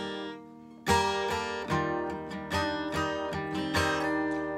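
Electric guitar strumming chords from a song: about six ringing strums, loud and close, spaced roughly every second, each chord sustaining into the next, with no talking.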